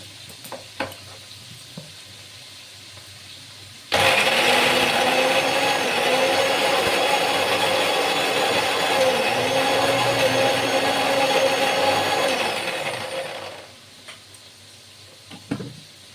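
A mixer grinder grinding coconut into paste starts abruptly, runs as a loud, steady whirring drone with a rhythmic rattling churn for about ten seconds, then stops, with quiet kitchen sounds before and after.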